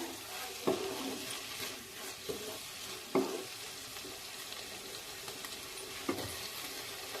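Pav bhaji mixture cooking in a pan, a soft continuous sizzle with a few sharp spoon or spatula knocks against the pan as it is stirred, fairly quiet and close.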